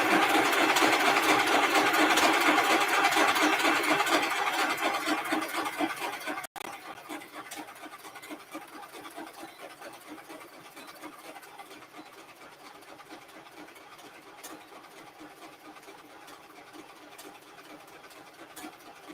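A sewing machine runs with a steady mechanical whirr, louder for the first several seconds, then continues more quietly at an even hum to the end.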